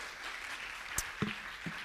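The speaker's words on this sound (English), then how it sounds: "Can I get a big hand of applause" A conference audience at a Honeywell industrial cybersecurity session applauds a speaker, a faint, thin patter of clapping with a few louder thumps and knocks, heard from a distance.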